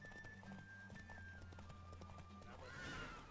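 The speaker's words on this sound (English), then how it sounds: "I'm doing horse races." A horse gallops in a race in the video game Witcher 3, with rapid rhythmic hoofbeats. A neigh or whinny sounds faintly, and the clip is quiet overall with a brighter swell near the end.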